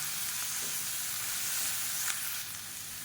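Onions sautéing with ginger garlic paste in a pan: a steady, close frying sizzle and hiss continues throughout, with faint stirring scrapes and no talking.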